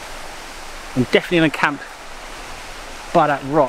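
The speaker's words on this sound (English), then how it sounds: "I found the waterfall." Steady rushing noise from a waterfall in autumn woods fills the background, continuous and moderately distant, while someone speaks briefly over it.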